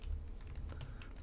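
Rapid keystrokes on a computer keyboard as a Docker Machine restart command is typed, a close, steady run of clicks lasting just over a second with no voices.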